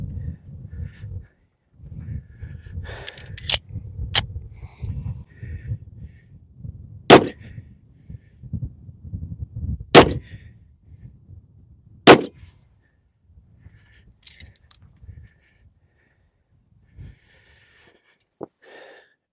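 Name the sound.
Dan Wesson Heirloom pistol firing 38 Super rounds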